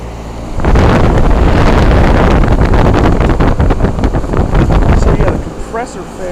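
A 2005 Trane XR11 2.5-ton heat pump with a replacement Climate-Tough compressor starts up in cool mode: a loud, steady broadband roar and whoosh kicks in after a brief quieter moment and runs continuously, with a faint voice near the end.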